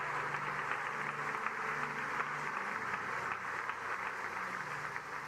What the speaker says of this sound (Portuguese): Quantos podem aplaudir ao Senhor e dar glória a Deus aqui neste lugar?